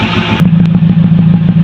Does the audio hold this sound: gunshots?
no